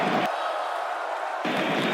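A stadium crowd cheers and celebrates at Wembley during an England versus Greece UEFA Nations League football match: a brief, steady, dense wash of distant crowd noise that thins for a moment in the middle.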